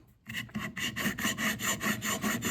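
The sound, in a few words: honing plane blade on metal stone with WD-40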